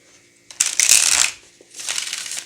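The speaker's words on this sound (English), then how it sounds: "Let's see the horizontal shuffle." Tarot cards from a Star Spinner deck are given a horizontal shuffle close by: two loud papery swishing bursts of sliding cards separated by a short pause.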